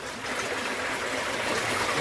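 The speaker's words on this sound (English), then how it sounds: "we'll let some of this water drain out" Water draining through a cleared beaver dam blockage, a steady close trickling and gurgling stream flow with a soft, continuous wash.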